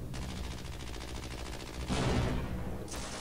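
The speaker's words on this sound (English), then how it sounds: "There are turrets over there." Rapid automatic turret gunfire in Half-Life: Blue Shift, a steady rattling stream of shots that swells louder near the end, with no talking.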